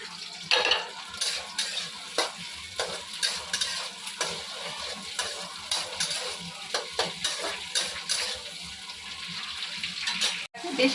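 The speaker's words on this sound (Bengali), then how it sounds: "তারপরে এই যে টুকরো করে যে স্লাইস করে কাটা যে পেঁয়াজগুলো আর ক্যাপসিকামটা একটু ফ্রাই করে নেবো হালকা।" Sliced onions and capsicum frying lightly in oil in a kadai for chicken karahi: a continuous soft sizzle broken by repeated spoon scrapes and clinks against the pan, fairly close, with faint voice in places.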